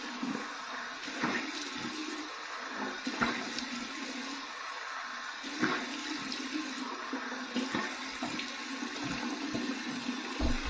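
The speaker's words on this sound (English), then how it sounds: "Cold water rinse." Tap water runs steadily for a cold rinse after a wet shave with a Blackland Era razor, a continuous close splashing hiss with small fluctuations and no talking.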